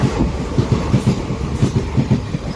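A Dwarka to Bhavnagar passenger train runs at full speed, giving a steady close rumble with regular, rhythmic clickety-clack wheel beats throughout.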